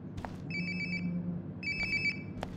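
Two bursts of a mobile phone's electronic ringtone repeat in Life is Strange: Before the Storm, each a quick run of bright chirping pulses over a steady low hum, with soft clicks between.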